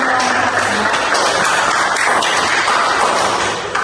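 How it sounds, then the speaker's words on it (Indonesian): A classroom of students applauds their classmates' groups, a loud, continuous wash of clapping and crowd noise that holds steady throughout. "Tepuk tangan untuk kelompok satu,"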